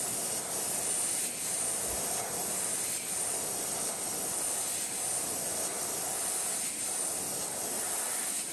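An airbrush sprays paint onto a foam wake-bait fishing lure, giving a continuous close, even hiss that holds steady throughout with slight pulsing and no talk.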